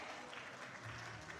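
Applause from an audience at a school knowledge-contest award ceremony, a steady dense wash of clapping that stays faint and distant throughout, with no voices on top.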